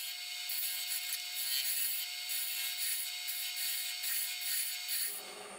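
Wooden bowl being turned between centres on a wood lathe, with a gouge cutting steps toward the center in repeated passes, giving a steady scraping, rasping hiss that runs nearly constant and close, then drops away as the cut stops near the end.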